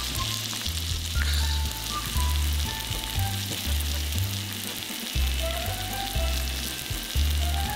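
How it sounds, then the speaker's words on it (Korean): Octopus grilling in butter sizzles and crackles loudly in a hot pan, a dense steady hiss broken by periodic low thumps from stirring or moving the pieces, with no voices. "버터 낙지구이도 먹음직스러운데요."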